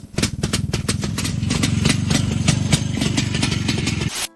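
An IFA BK 350 air-cooled two-stroke boxer motorcycle engine from post-war Germany runs steadily at a fast, even beat, loud and close, then cuts off abruptly near the end.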